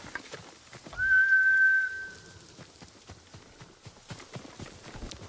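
Hooves of Kage, the player's horse in the video game Ghost of Tsushima, beat in a steady clip-clop rhythm, with a bright whistle-like tone sounding over them for about a second early on.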